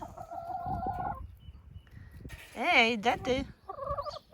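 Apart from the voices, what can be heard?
chickens clucking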